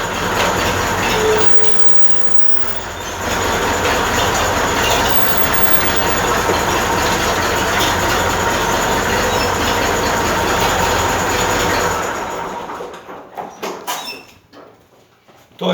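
A tractor's cardan shaft turns with the gearbox engaged, giving a continuous loud mechanical rumble and rattle that holds steady, then winds down and fades near the end.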